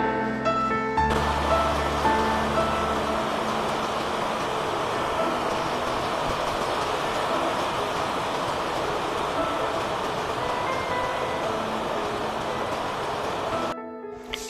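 A Bolpur–Howrah Shantiniketan Express train rushes past a station close by, a steady loud roar and rumble that holds for several seconds before cutting off abruptly.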